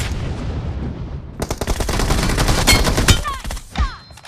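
Video game gunfire, loud rapid bursts of automatic shots building after a quieter start, close and dense with sharper single cracks near the end.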